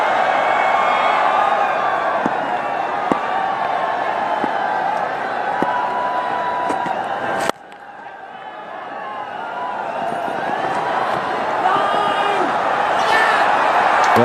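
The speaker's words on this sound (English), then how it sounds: "And a very good crowd now watching the proceedings." Large stadium crowd at an India vs Australia one-day international cricket match in Mohali, a steady broad murmur and roar that dips briefly midway before swelling back, with commentary voices talking over it.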